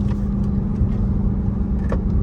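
A Dodge Hellcat's supercharger whines over steady engine drone and road rumble from inside the car, driving in rush-hour traffic, continuous and loud without pause.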